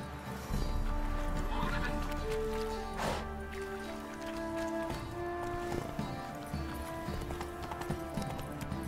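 Roach the horse galloping in The Witcher III, with rhythmic clip-clop hoofbeats and a whinny, moderately close amid an ambient game soundscape.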